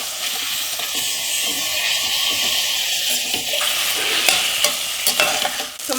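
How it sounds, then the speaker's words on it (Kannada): Cut tomato sizzles in a hot pan while being stirred, a continuous close hiss with scraping and clinking of the spoon throughout. "ಹಾಗೆ ಇದಕ್ಕೆ ಒಂದು ಕಟ್ ಮಾಡಿರೋ ಟೊಮೆಟೊ ಕೂಡ ಹಾಕ್ತಾ ಇದ್ದೀನಿ."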